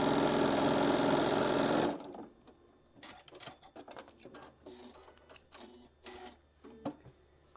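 A sewing machine stitches across a seam in fabric, running loud and continuous for about two seconds, then stopping and leaving quiet clicks and handling noises.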